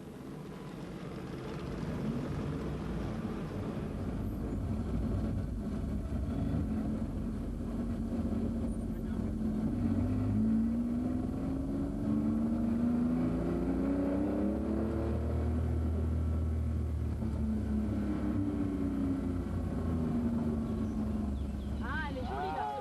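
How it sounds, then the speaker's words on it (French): A Ferrari GT Europa, car number 128, drives on the 1997 Tour Auto road rally, its engine droning steadily from onboard and rising and falling in pitch as it changes gear, with someone speaking over it. "Voici la Ferrari GT Europa numéro 128 des Américains Mock et Draper. Vous êtes désormais leurs passagers."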